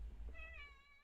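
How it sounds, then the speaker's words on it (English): An indoor pet cat meows once, a clear rising-and-falling tonal call that lasts most of a second, close and fairly quiet over a low background rumble. "that's my cat meowing"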